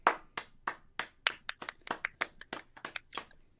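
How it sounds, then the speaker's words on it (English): A handful of people clap on a podcast recording, a quick run of roughly a dozen sharp, close claps in an uneven rhythm with no talking. "clap for him"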